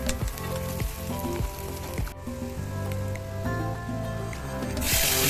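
Onions frying in hot oil in a kadai for a prawn dish, a dense, steady sizzle with crackling that swells louder at the end, alongside a low background hum.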